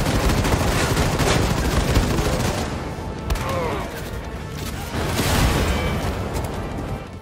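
Gunfire in Wolfenstein II: The New Colossus, a dense and loud stream of rapid automatic shots and crashing impacts that runs continuously throughout.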